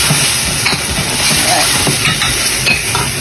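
Palabok sauce with a little butter cooks in a pan over lowered heat, giving a loud, dense, continuous sizzle with faint stirring scrapes.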